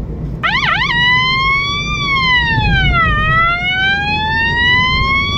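An emergency vehicle siren, heard from inside the moving vehicle on a life-saving run, starts with a rapid warbling burst and then shifts to slow, rising and falling wails, loud and continuous over road noise.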